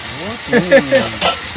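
Elephant foot yam sizzling and frying in a hot pan, with a brief stir and scrape, while a voice talks over it.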